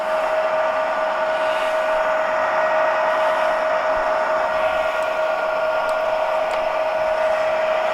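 A metal lathe running in longitudinal feed mode gives off a steady, continuous mechanical whine with a strong sustained tone, holding constant and fairly loud throughout with no talking.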